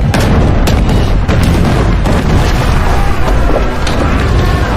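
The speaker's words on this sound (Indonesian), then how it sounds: "Shimazu memerintahkan Tachibana untuk mengeluarkan meriam hasil rampasan perang Chosun di waktu lalu" Cannon fire in a naval battle between the Joseon navy and a Japanese fleet, using captured Joseon cannons, booms in a loud, continuous barrage of overlapping blasts and crashing impacts with no pause throughout.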